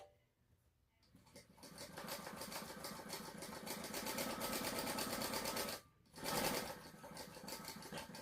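Sewing machine stitching a crossbody bag seam at a scant quarter-inch allowance, a quiet, steady rapid whirring that runs continuously, pauses briefly, then starts again.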